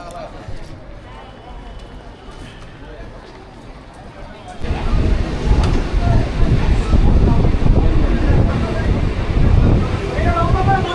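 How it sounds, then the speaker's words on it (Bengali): A crowded local train leaving Belgharia rumbles loudly. A quieter stretch gives way halfway through to a heavy roar of wheels and wind buffeting the microphone, with voices mixed in. "আমি এখন বেলগড়িয়া থেকে তিনটে এক বিয়াল্লিশে ট্রেন ধরছি"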